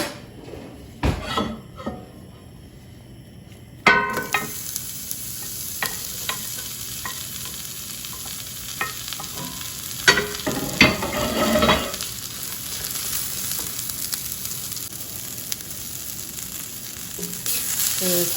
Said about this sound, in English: we're going to get the onions in there and get them nice and caramelized.